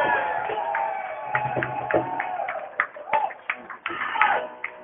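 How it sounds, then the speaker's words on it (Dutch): An audience at the Broodexpo opening at Loods6 in Amsterdam cheers, whoops and shouts for Lola de Loos, with sharp bursts of voices rising over a continuous crowd murmur. "Daar wil ik een heel groot applaus voor."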